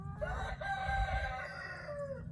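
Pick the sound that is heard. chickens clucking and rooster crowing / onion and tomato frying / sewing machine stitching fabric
chickens clucking and rooster crowing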